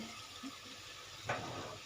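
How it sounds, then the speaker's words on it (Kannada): A glass of water splashes briefly into a pan of bitter gourd stir-fry, a soft gush that rises suddenly against a quiet room hum. "ಇದಕ್ಕೆ ಒಂದು ಲೋಟದಷ್ಟು ನೀರು ಹಾಕ್ತಾಯಿದ್ದೀನಿ ನೋಡಿ"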